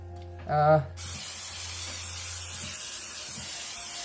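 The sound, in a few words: cooking spray being sprayed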